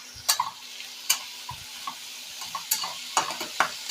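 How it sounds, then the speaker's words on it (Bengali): Onion, capsicum, green chilli, tomato and peanuts fry together in a pan under a soft sizzle, broken by repeated sharp scrapes and clacks of stirring at an uneven pace, close and without talk. "এখানে কিন্তু পেঁয়াজ, ক্যাপসিকাম, কাঁচা লঙ্কা, টমেটো আর বাদাম দেওয়া আছে, সবগুলো কিন্তু আমি একসঙ্গে ভেজে নিচ্ছি।"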